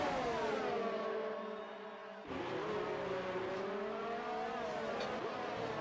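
Formula 1 car overtaking with DRS at Baku, a loud high-pitched engine whine that drops briefly then surges back as it passes, with faint commentary beneath.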